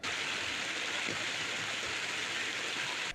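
Floodwater after continuous heavy rain rushes along a main road and into homes, a steady, close hiss of flowing water with a few faint splashes underneath.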